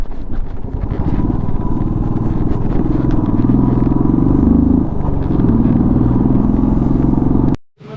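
A motorcycle rides along a mountain road near a landslide area, a steady close engine drone with wind rush and rattle, cutting off abruptly just before the end.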